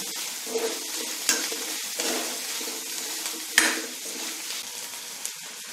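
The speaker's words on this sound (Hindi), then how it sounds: "इसको हम थोड़ा फ्राई करते हैं।" Chopped green onion and capsicum sizzle in a hot pan while a spatula stirs and scrapes, producing a steady close fry punctuated by a few sharp metal clinks against the pan.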